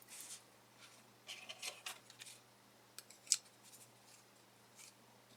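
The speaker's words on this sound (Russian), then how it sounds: "Ножницы." The small scissors of a Victorinox Swiss Card snip in faint, crisp cuts, a handful of brief clicks spread over a few seconds against a quiet background.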